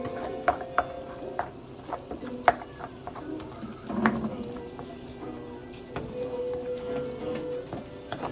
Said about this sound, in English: I'm gonna stir this around for you guys.